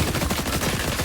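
Dense, rapid automatic gunfire rattles continuously in a Fortnite match, loud and close, with no gaps and no talking.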